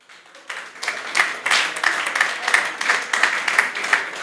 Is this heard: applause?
yes